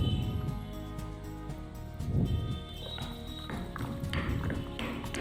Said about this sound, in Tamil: இப்போது பாசிப்பருப்பு போட்டு ஆட்டி எடுத்துக்கலாம்.